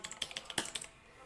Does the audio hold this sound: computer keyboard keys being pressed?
yes